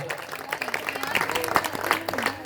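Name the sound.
audience applause at poetry event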